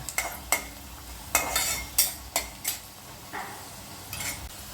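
Garlic frying in a pan gets stirred, with sharp spoon scrapes and clinks against the metal coming in irregular bursts over a faint sizzle, no talking.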